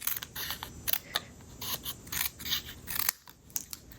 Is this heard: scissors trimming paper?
yes